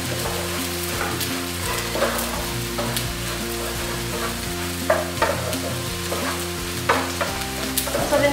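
Boiled rice with turmeric and coriander powder fries in a pan with a busy, crackling sizzle and scraping stirs, over a steady tonal hum in the background.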